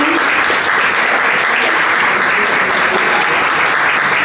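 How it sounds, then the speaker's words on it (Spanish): An audience at a theatre and literature talk breaks into loud, sustained applause, a dense steady patter of many hands clapping together. "La directora, un aplauso para Irene."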